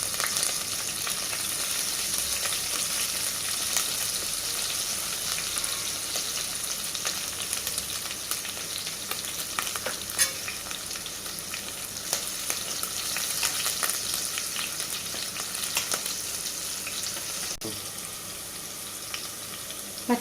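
Green chillies fry in hot oil in a pan for potato curry, giving a steady, close sizzle with crackling pops that runs continuously throughout.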